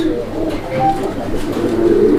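A male Lahori pigeon coos close by, low throaty rolling calls repeating steadily with no talking.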